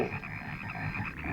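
Frogs croaking steadily in the horror film Frogs, a dense continuous chorus of croaks heard close and clear without speech.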